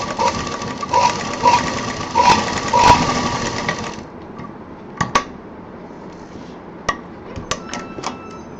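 A sewing machine runs in a steady rapid stitching rattle for about four seconds while joining fabric, then stops, followed by a few sharp clicks and knocks from handling the machine.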